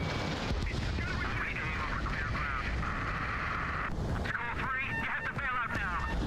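Aircraft cannon fire in the video game Ace Combat 7, played in VR, rattles steadily under a continuous roar of jet engine and wind, with an intermittent electronic warning tone layered above.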